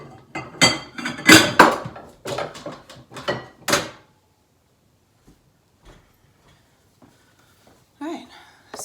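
A white bowl set into a kitchen cupboard, with a quick run of clinking and knocking as crockery is shifted and placed, followed by near silence and a faint later bump.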